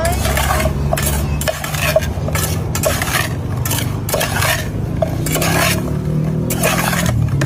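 Cut fruit is tossed with spicy chili seasoning in a container, making a steady rhythmic rattling and scraping of utensils and dishes, loud and close, with busy background noise.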